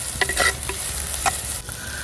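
Cashews fried in oil over a wood-fired stove for a kaju prawn masala, giving a continuous close sizzle broken by light stirring clicks and scrapes.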